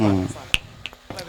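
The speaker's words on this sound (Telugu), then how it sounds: "నేను చిటుకులు వేస్తాను ఎన్ని చిటుకులు వేసానో మీరు చెప్పాలి" Three sharp, close finger snaps spaced a few tenths of a second apart during a hearing test, following a brief bit of a voice speaking at the start.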